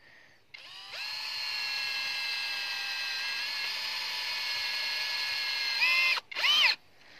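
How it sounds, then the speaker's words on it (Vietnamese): A well-drilling rig bores into the ground for water at a border village, giving a steady high-pitched whine that runs for about five seconds, then changes pitch briefly before a short final burst. "Nhưng mà cứ khoan đi, khoan tí mình lần cho nó dễ."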